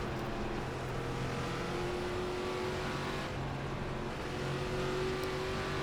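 Steady race car engine from an ARCA stock car in the iRacing simulator at Las Vegas, droning loudly and continuously as the car slows after the finish, with a constant hum and slight variation in pitch throughout.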